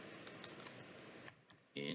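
Keys on a computer keyboard are tapped in a short burst of a few quiet clicks, followed by a brief louder clatter, all fairly close and faint.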